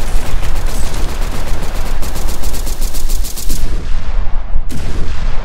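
Loud gunfire in a Roblox shooting game: a dense, rapid stream of cracking shots fills most of the stretch, then dies away before one last sharp shot rings out alone.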